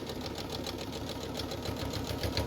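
A sewing machine stitching an accordion pouch runs steadily, a fast, even mechanical whir with a rapid needle rhythm, close and continuous without talk.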